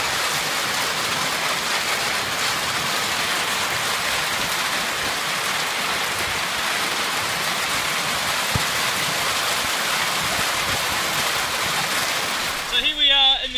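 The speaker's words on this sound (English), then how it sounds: "and we've got some crazy hail." Hail hammering steadily on a campground table and umbrella, a dense loud roar of impacts that continues without pause, close to the listener.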